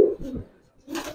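Giribaz pigeons of the Palla line coo in a short low burst at the start, then again after a brief quiet gap, close by with a faint voice in the background.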